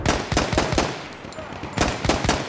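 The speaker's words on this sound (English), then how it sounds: "Not good, my bullets don't hit him anymore." Battlefield 1 gunfire comes in two rapid clusters of sharp, loud shots at the start and end with a quieter gap between. No talking is heard.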